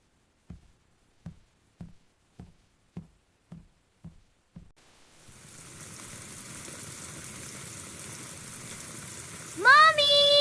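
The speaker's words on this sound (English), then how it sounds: "Look, it's raining so much." Heavy rain starts up and settles into a steady broadband hiss after a series of evenly spaced knocks; a short tonal sound rises near the end.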